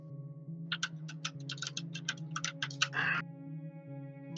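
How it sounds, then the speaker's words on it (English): Rapid keystrokes clatter on a computer keyboard in an irregular rhythm over a low steady hum, with one longer burst near the end. "Is someone typing something to me?"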